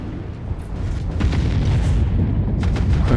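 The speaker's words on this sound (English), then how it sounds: "Target is about to blow" A destroyed mech blows up in the video game MechWarrior 5, a loud low rumbling boom that swells and holds for a few seconds, with sharper crackling bursts near the end.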